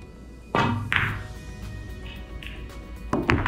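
A nine ball struck by the cue ball and rolled along the cushion into a corner pocket, two sharp thunking impacts followed by lighter knocks and rattles, close and clear, with no talking.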